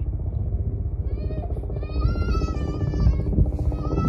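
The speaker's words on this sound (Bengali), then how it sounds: "ওই যে হেলিকপ্টার যাচ্ছে" A helicopter passes overhead with a steady, loud rotor thump and rumble that swells toward the end, with a voice talking over it.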